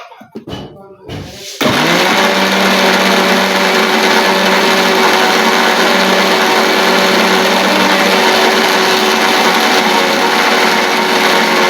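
A mixer grinder grinding rice with cumin seeds roars to life after a short stretch of rattling and handling, then runs as a loud, steady, high-pitched motor whine with a constant hum to the end.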